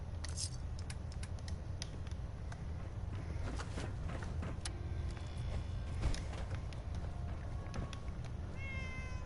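Cat meowing in a survival-mode Fallout 4 game scene, a few faint mews scattered over a constant low rumble and clicking game ambience.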